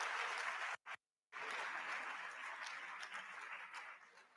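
Audience applause at an induction ceremony for newly qualified physician assistants, a steady wash of many hands clapping, briefly cut out, then continuing evenly before tapering off.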